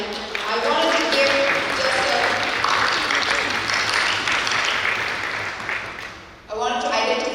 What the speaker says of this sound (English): So we want to applaud you and thank you for all our efforts.